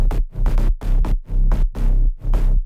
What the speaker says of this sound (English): Without the extra layers, the bass feels a bit empty.